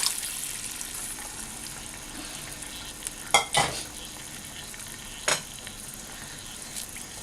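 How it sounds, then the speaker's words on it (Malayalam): Water poured into roasted rice in a biryani pot for Kozhikodan chicken dum biryani, giving a steady sizzle with a few sharp splashy bursts partway through, close and fairly loud, no talk. "ഗ്ലാസ് വെള്ളം ഒഴിച്ചു."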